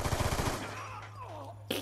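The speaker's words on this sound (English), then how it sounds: "I was shooting him." Rapid automatic gunfire from Black Ops 2 in a pistols-only match, a quick burst of about six close shots in the first half-second, followed by a steady low hum and one sharper crack near the end.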